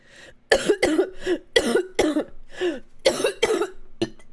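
A run of harsh, voiced coughs in quick bursts, about ten in a row, close and loud, trailing off at the end.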